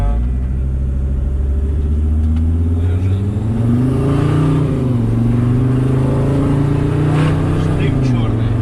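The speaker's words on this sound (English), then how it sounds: "it's surprisingly loud. It's just it's a screechy sound that it's doing." New turbo on a Mercedes T1N Sprinter van screeching loudly as the engine accelerates, a sustained whine rising and falling over a heavy engine rumble, close and continuous.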